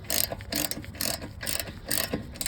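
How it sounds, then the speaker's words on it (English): A regular 19 mm ratchet spins strut bolts off a 2015-2021 Subaru WRX, giving about five quick bursts of close, crisp pawl clicking with short pauses between them. "you can use a regular 19 millimeter ratchet"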